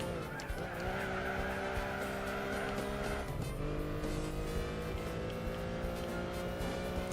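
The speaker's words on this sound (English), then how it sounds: "This Crossfire is a really good car." A Chrysler Crossfire driven in Gran Turismo 4 gives a loud, steady engine drone whose pitch drops sharply twice, like gear changes, with a faint tire squeal over the continuous hum.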